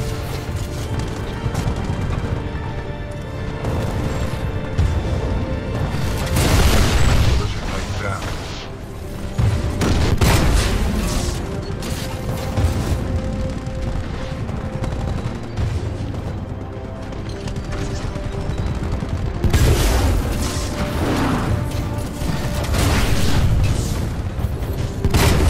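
The Scorch titan in the shooter video game Titanfall 2 unleashes fire attacks, with loud sustained roaring and repeated heavy booming explosions throughout amid constant battle noise, with a voice talking at times.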